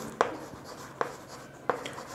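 A pen writes out a maths answer about measuring oil with a 7-litre container, three distinct taps and scratches roughly a second apart over quiet room tone, no voices.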